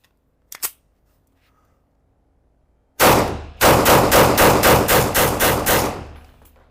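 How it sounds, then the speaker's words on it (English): Canik TTI Combat compensated pistol fired rapidly at a range: one sharp shot, a pause, then a fast string of about eight loud, evenly spaced shots that fade at the end, with no talking. "Let's try to take a few more shots a bit faster."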